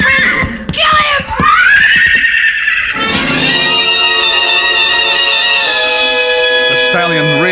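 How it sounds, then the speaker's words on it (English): A stallion rears and neighs in a vintage noir radio drama, giving a loud, shrill, distorted whinny that rises and stretches out over several seconds, close and dominant, with brief vocal sounds at the start. "The stallion reared high, pawed at the gathering darkness."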